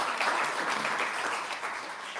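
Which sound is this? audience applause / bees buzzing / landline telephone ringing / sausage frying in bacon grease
audience applause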